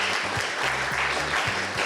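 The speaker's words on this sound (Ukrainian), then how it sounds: "Ось тут стоїть мікрофон, який вловив ваші аплодисменти." An audience claps together in steady, dense applause picked up by a room microphone, continuous and fairly close for a couple of seconds with no talking.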